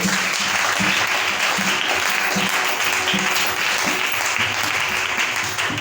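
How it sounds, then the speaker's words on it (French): A church congregation applauds steadily and loudly, a dense sustained clapping with a faint rhythmic pulse throughout. "On acclame le Seigneur."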